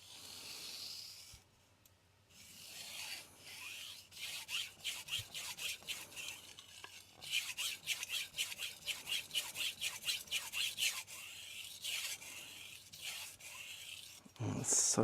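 Knife sharpening on a Morihei Hishiboshi 1000 grit whetstone with a Nakamura Hamono blade: a steady run of close, raspy back-and-forth strokes in rhythmic bursts, fairly quiet, with no talking.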